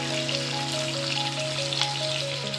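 Chicken pieces fry in hot oil in a pot, a steady close sizzle and crackle with soft musical tones running underneath and no one talking.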